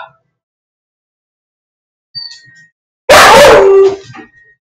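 Dogs bark, with a faint short yelp first and then one loud, close bark in a quiet indoor space.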